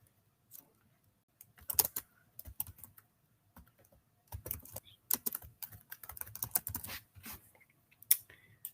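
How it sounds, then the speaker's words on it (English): Bursts of typing on a computer keyboard, quick irregular clusters of key clicks separated by short pauses, close and fairly quiet with no talking. "I'm just typing up a new topic."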